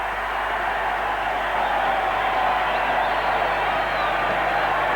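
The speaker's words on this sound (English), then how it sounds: "The crowd has been in a complete uproar for this whole game." A dense, steady roar of a large rugby league crowd at Lang Park during the 1978 Brisbane Rugby League grand final between Easts and Valleys, continuous and loud throughout with no single voice standing out.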